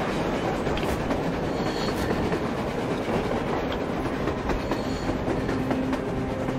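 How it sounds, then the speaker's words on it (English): A train rolls along on the surface in the video game Metro Exodus, with a continuous rumbling, rhythmic clickety-clack of wheels on rails and faint metallic squeals, steady and fairly close throughout with no speech. "A train! A damn train on the surface!"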